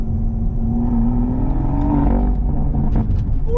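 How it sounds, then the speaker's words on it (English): Toyota GR Supra exhaust in sport mode with the valve open, a steady loud rumbling rev that swells briefly near the middle, heard close by without talk. "The exhaust sounds good. Sport mode."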